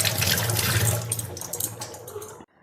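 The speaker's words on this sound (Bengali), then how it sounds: "এবার আমি বেগুন দুটো ধুয়ে নিচ্ছি।" Two whole eggplants being rinsed under a running kitchen tap, water splashing steadily and close for over two seconds before cutting off abruptly, with no talking.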